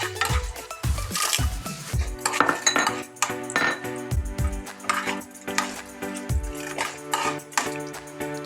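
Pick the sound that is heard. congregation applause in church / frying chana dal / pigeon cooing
frying chana dal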